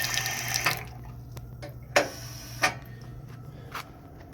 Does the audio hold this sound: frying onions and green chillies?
no